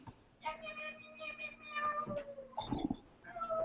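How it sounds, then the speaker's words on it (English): A black cat meows several times in a row, close and fairly loud, with drawn-out tonal calls and a harsher cry near the end, while faint talking runs underneath. "He's the best black cat in the world."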